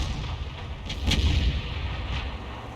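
A single sharp cannon shot from an M46 tank in a tank video game, with a punchy crack and short rumbling tail over steady low engine noise, no voices.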